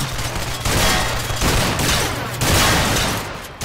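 Squad of soldiers in a Garry's Mod game firing a loud, dense burst of gunfire, two long volleys of rapid overlapping shots close by.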